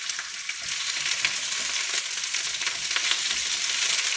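Chopped onion stirred and softening in a hot pan, giving a steady, close broadband frying sizzle with faint scraping of the stirring throughout, no voices.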